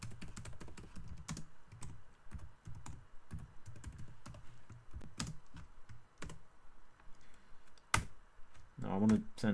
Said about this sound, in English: it sounds like I've got an old typewriter, but that is just my keyboard